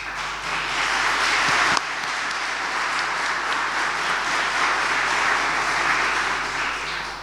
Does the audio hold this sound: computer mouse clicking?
no